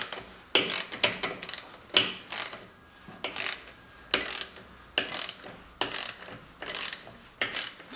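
A ratchet wrench drives a bolt on a triple-turbo LS Mustang, clicking in steady repeated strokes, each a quick burst of close, crisp pawl ticks, with no talk over it.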